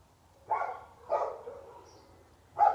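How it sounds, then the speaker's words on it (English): A neighbour's dog barks three times at moderate distance, two barks close together and a third after a short pause, with a quiet background and no talk. "So the neighbour's dog's barking, I do apologise."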